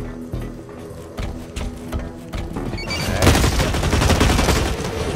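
Gunfire rattles in the shooter game Blacklight Retribution, starting with scattered close shots and then swelling into a dense, loud burst of rapid automatic fire.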